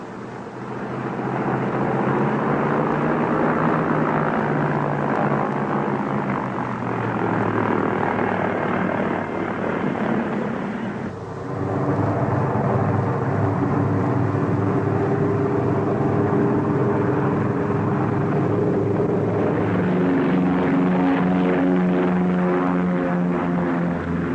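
A propeller plane's engine runs steadily and loudly, a continuous droning roar that shifts pitch partway through as it revs, with no voices over it.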